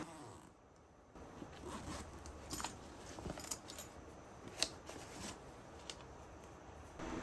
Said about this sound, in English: Nice big zipper to easily access the tools inside.